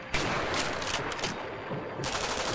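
Machine gun fire in the World War II sniper game Sniper Elite V2: sustained, rattling bursts of automatic fire, loud and close, run almost continuously with a short dip before resuming.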